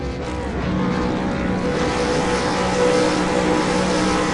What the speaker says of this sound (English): the revs are starting to rise